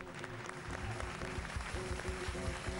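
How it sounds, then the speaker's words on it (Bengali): Audience applause for a contestant on a comedy stage show, a dense, moderately loud patter of clapping hands sustained throughout, somewhat distant. "জোরে হাততালি সাহেব মাঝির জন্য"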